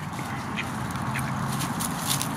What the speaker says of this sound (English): These are the same 3 ducks that have been out here every time I come over to Murphy's Lake.